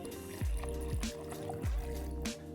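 Tequila glugs from a bottle into a cocktail shaker filled with ice for a margarita, a few quick pours in a row with soft trickling between them, close and fairly quiet with no talking.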